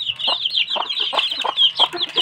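A hen on a farm clucks in a run of close, fairly loud, evenly spaced calls while scratching at food laid out for chicks, with a thin high chirping running underneath.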